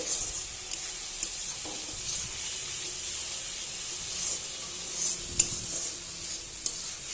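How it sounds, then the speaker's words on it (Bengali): Fish and potatoes sauté in a pan, giving a soft, steady sizzle with occasional faint clicks and scrapes of stirring, close and fairly quiet. "এভাবে একটু কষাবো"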